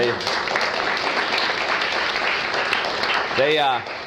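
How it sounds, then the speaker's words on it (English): A press conference audience gives a round of applause, dense even clapping that holds steady for about three seconds, and then a voice comes in near the end. "can we give them a round of applause"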